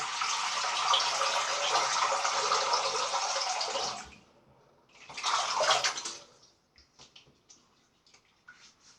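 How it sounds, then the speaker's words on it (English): Cold water runs from a tap into a bowl in a steady splashing stream, stops, gushes again briefly, then gives way to a few faint drips and clinks. "Let's have some cold water in the bowl."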